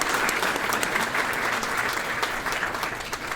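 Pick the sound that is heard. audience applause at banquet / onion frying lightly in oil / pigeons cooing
audience applause at banquet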